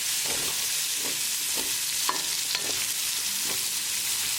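Onion and green chili fry in a pan while a utensil stirs them, a constant close sizzle broken by a regular series of scraping stir strokes, roughly one every half second, with no talking.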